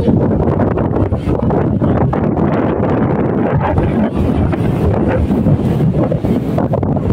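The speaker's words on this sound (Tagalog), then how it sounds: "Sarap ng hangin." Strong, steady seaside wind at Mabini, Batangas buffets the microphone with a constant low roar, broad rushing noise with no break, loud and close throughout.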